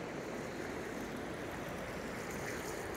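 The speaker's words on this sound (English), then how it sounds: "Amazing rapids." Continuous broadband rush of river rapids with trout and salmon water, a steady roar with no breaks or voices.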